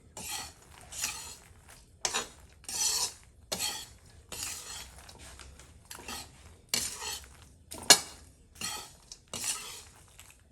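Fox nuts (makhana) stirred and roasted in a pan over a low flame for panjiri, with repeated metallic scrapes and clinks of a spoon against the pan coming in bursts, each separated by short pauses.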